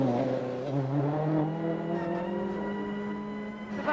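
A rally car from the 2008 WRC Rallye Monte Carlo, driven by François Duval, runs at high revs with the engine note climbing and shifting between gears. It sounds steady and fairly near, with no speech.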